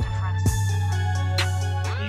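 Chopped 808 hits in an FL Studio trap beat rumble loud and continuous, a deep bass tone with several short bright hits on top and a rising sweep near the end.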